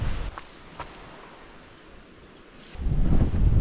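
Strong gusty wind in Tasmania, roaring in low, rough bursts against the microphone at the start and again toward the end, with a quieter lull in between.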